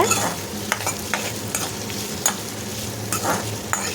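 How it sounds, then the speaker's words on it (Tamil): Large onions sauté in a pan for a bitter gourd gravy, giving a steady close sizzle broken by several sharp scraping stir strokes. "பெரிய வெங்காயம் போட்டுட்டு நல்லா வதக்கி விட்டுருங்க"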